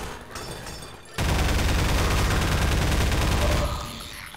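Sustained automatic gunfire in the Half-Life 2 video game during a prison fight at Nova Prospekt, a loud, continuous rattling burst lasting over two seconds that starts abruptly and then tapers off.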